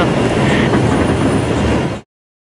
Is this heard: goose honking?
no